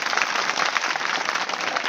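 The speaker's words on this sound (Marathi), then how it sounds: "एकदा सर्वांनी आमच्या या सर्व मंडळीसाठी गोड टाळी वाजवा" A kirtan audience breaks into dense, sustained applause, many hands clapping steadily at an even loudness throughout.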